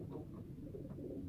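Pigeons picked for a village fanciers' club race in Perez, Quezon, give soft low cooing, steady and close, with a couple of brief higher murmurs and no talking.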